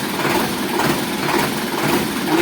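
A car fitted with a GPS tracker idles with a steady, even engine hum and faint rhythmic pulsing, close by and with no talking over it.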